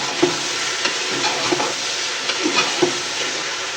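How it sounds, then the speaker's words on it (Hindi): Potatoes and brinjal fry in oil in a pan for an achari aloo baingan dish, giving a steady close sizzle broken by several soft knocks and scrapes of stirring. "पहले आलू फ्राई हो गए हैं और अब 1-2 मिनट बैंगन को फ्राई करूँगी।"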